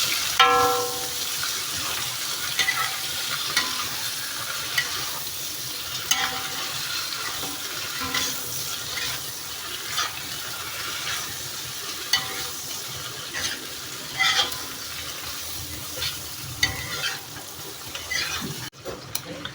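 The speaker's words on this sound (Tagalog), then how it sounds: "Isunod na natin ang ating hipon. Halo-haloin lang natin hanggang mag-turn orange." Shrimp fry in garlic butter while being stirred, a continuous close sizzle with scraping and clinking strokes of a utensil in the pan, no voices.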